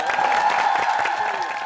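A studio audience on a Korean TV talent show stage applauds, a dense, steady patter of clapping throughout that neither builds nor fades.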